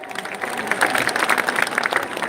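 A street crowd in Hingoli claps steadily for Manoj Jarange Patil during a welcome rally, a dense patter of applause that holds at a moderate, somewhat distant level.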